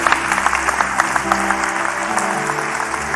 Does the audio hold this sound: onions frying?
no